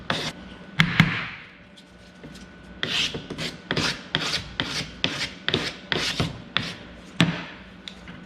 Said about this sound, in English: I have gone over the entire thing with my 320 grit sandpaper